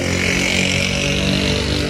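Motorcycles pass in front of a car shop, a loud, rough, continuous engine roar filling two seconds.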